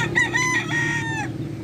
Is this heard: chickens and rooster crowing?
yes